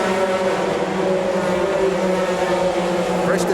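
Sports racing cars of an American Le Mans Series field roar off together at a green-flag start at Donington Park in 2001, a dense, steady engine drone that stays loud throughout.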